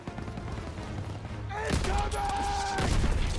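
Gunfire in the World War 2 shooter game Call of Duty: a distant low rumble, then a sharp burst of several loud shots in quick succession, with a second cluster near the end.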